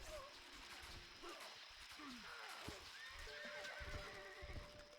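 Horses neigh and whinny in a medieval strategy game battle, with hooves clip-clopping and splashing as they cross a river, several calls rising and falling over steady background noise.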